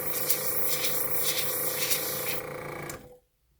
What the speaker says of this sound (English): running your airbrush up and down the petal